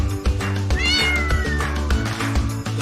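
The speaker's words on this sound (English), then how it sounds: "See this cute black cat." A black cat meows once in a drawn-out, rising-then-falling call, clear and close over a steady, bouncy children's music backing.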